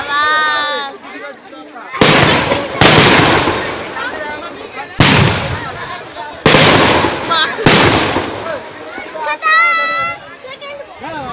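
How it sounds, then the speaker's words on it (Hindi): Firecracker bombs at a firework show in West Bengal burst in sharp, loud, close blasts, about five of them spaced a second or two apart, with children shouting and talking excitedly between the bangs. "इस बॉम्ब में दम नहीं था।"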